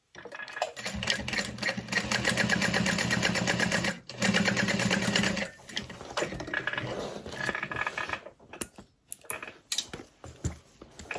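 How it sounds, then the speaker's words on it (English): A sewing machine stitches a tote bag handle in long steady bursts of rapid mechanical whirring, with a short pause near the middle and a stop-start trail of short stitches at the end, close and clear with no talking. "you're gonna sew up to that 5-inch line we marked out earlier"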